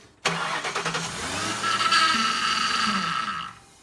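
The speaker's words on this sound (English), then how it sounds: "Now we will fire the car up for a split second." A car engine cranks briefly, then catches and settles into a steady, close, loud idle for a few seconds, while power steering work is under way.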